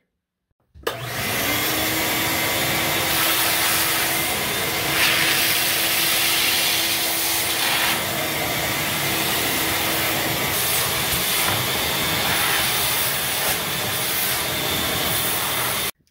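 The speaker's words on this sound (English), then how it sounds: "I'm gonna take my shop vac, dust this down" A shop vac runs continuously, sucking dust off a cut plastic Aqueon 30-inch Deluxe LED aquarium hood. It is a loud, steady, close roar that starts abruptly and holds evenly to the end.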